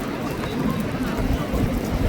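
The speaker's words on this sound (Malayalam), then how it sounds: "ശക്തമായ മഴ" Dense, steady downpour in Makkah hissing across the whole clip, with low rumbling and a murmur of voices mixed in beneath.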